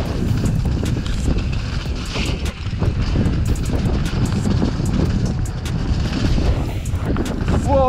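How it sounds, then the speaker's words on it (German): Strong wind in a winter outdoor setting, buffeting and roaring steadily for several seconds with gusty fluctuations and rough microphone rumble. "Wind."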